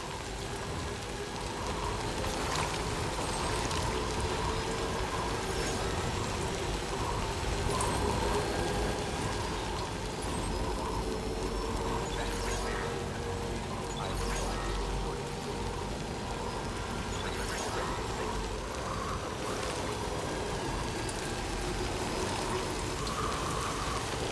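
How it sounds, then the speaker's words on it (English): Steady rain pours down in the video game Death Stranding 2, a continuous dense hiss of drops with faint scattered taps that holds evenly for the whole stretch, with no voices over it. "Rain."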